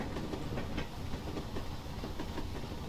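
In a train simulator game, a train rolls along a foggy route in the late evening, its rhythmic clickety-clack of wheels over rail joints running steadily and fairly quietly beneath a continuous wash of running noise.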